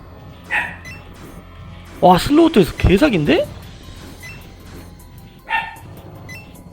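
A dog barks and yips in quick bursts indoors near the microphone, whining and vocalizing for about a second amid a person talking before and after.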